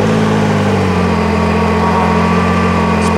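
A steady, fairly fast engine idle of a Can-Am Maverick R UTV in sport mode, about 1700–1800 RPM, hums with low vibration and a faint high whine, continuous and close, with no voices.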